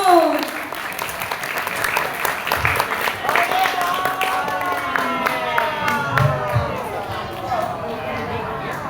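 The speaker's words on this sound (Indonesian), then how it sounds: "Mari tepuk tangan untuk Ano" Audience applause for a young performer about to recite a poem, loud dense clapping with crowd noise running steadily through the whole stretch, a voice trailing off at the start.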